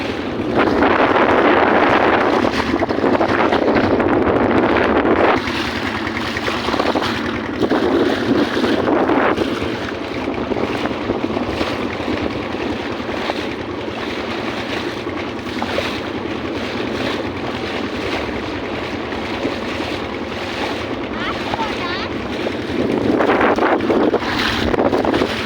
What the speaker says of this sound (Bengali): আমরা ছোট নৌকায় ছাড়ছি না, নদী পাড়ি দিচ্ছি, সব সময় এটা অনেক তুফান থাকে।